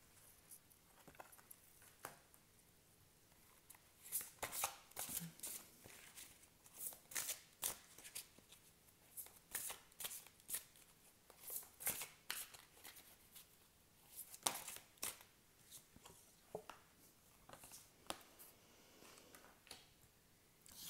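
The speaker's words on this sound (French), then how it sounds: "je tire plusieurs cartes et je vais vous dire" A tarot deck is shuffled and cards drawn in quick, close rustling riffles and flicks that come in bursts over about twenty seconds, quiet and with no talking.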